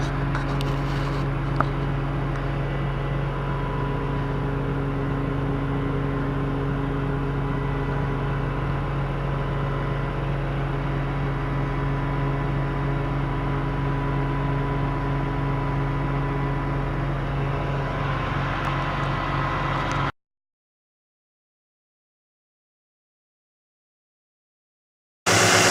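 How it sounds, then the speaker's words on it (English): A 2016 Ram 1500 pickup's engine runs steadily at idle for about twenty seconds, a loud, even low hum and whir close by with no talking, then the sound cuts to silence. "I got the truck running so it's loud."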